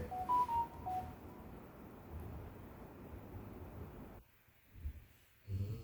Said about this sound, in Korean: IM 소리 계속 울리네.